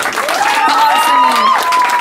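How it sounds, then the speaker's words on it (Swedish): Audience applause at an open stage event, dense clapping mixed with a loud voice or sustained tonal sound over it, close and strong throughout. "en varm applåd."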